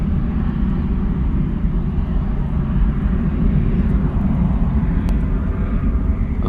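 A KLM Embraer 175 regional jet climbs steeply after takeoff from Bristol Airport, a loud, steady broadband roar of engine noise that holds constant and fills the whole stretch, with no voices.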